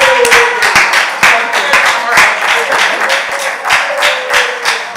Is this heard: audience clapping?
yes